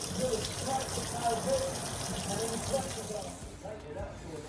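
Water runs steadily from a tap into a sink or tub to wash a freshly tie-dyed jean jacket, a continuous close gush that eases slightly near the end.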